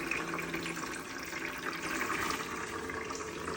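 Water runs steadily from a small automatic pump-and-filter bird bath in a cage for parakeets, cockatiels or finches, a close, even splashing trickle that continues throughout.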